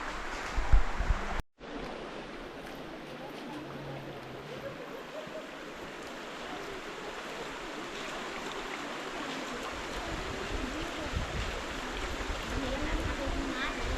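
Flowing river water nearby rushes in a steady broadband wash, opening with a brief loud knock before continuing evenly under light wind noise.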